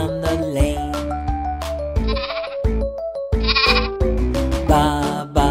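Bleating sheep sounds rise over a bouncy children's nursery song, several wavering baa calls set among the melody and instruments.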